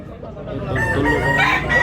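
A rooster at a gamefowl market in Tabunok, Cebu City crows loudly, the call rising out of background murmur and ringing on to the end.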